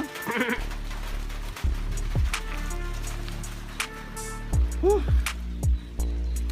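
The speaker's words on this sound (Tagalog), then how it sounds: "May kambing" Several short goat bleats ring out at intervals on Mount Oro in Rodriguez, Rizal, some faint and one clearer, over a background of outdoor rumble.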